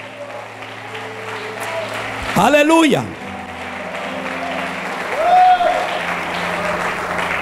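A church congregation at a pastor's service applauds steadily in a sustained wash of clapping, with voices calling out over it and a brief shouted exclamation.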